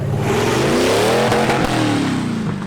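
Nissan 350z drift car engine revving loudly, a harsh climbing exhaust note that rises and dips across a few seconds, close and continuous with no talking.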